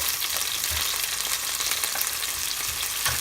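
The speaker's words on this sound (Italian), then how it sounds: "Mi facciamo prima friggere un poco" Steady crackling sizzle of zucchini frying in a pan, with faint scraping stirs now and then, no voices.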